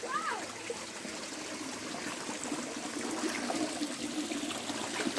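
A waterfall behind a rubber plantation pours and splashes in a steady, moderately close rushing wash that continues throughout, with a faint voice briefly at the start.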